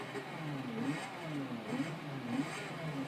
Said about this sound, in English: here we have the Lotus Evora S.